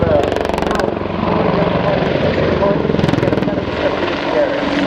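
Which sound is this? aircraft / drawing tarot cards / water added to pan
aircraft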